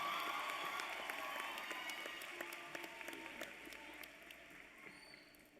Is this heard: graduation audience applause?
yes